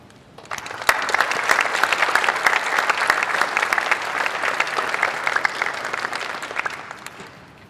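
An audience at Temple Emanu-El for Human Rights Shabbat applauds to welcome speaker Robert Bank, with loud, sustained clapping from a crowd that swells quickly, holds for several seconds, then fades away.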